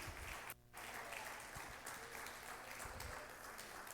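Faint applause from a church congregation, a steady wash of many hands clapping heard from a distance, with one brief dip near the start before it carries on evenly.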